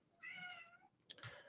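A pet cat gives a clear, drawn-out meow followed by a shorter second one, both close but soft in an otherwise quiet room.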